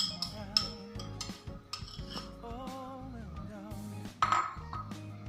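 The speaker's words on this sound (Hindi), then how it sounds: "हमने इसमें दही डाल दिया है।" A spoon scraping and clinking against a dish as yogurt goes onto chana chaat, with light irregular taps and stirring sounds at close range over faint background music.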